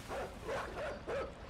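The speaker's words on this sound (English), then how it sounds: "So you get chased by dogs." Dogs in the video game Inside bark and yip during a chase, several rhythmic bursts over a steady background rumble, fairly faint.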